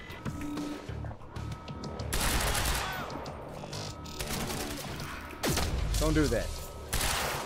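Bursts of gunfire from the video game Quantum Break come in rapid volleys with thuds and crashes, while a player talks over the action.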